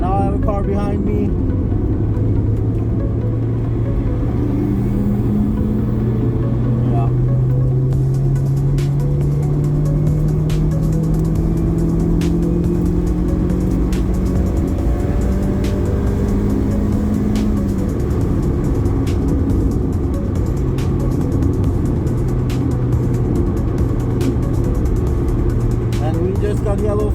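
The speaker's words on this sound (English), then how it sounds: "Now I have a car behind me." A car laps the Braga Vasco Sameiro racetrack during a trackday, its engine loud and close from inside, pitch rising and falling through gear changes without a break, while a driver talks over it.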